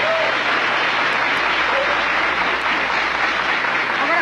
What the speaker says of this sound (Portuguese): Uma salva de palmas aqui, por favor.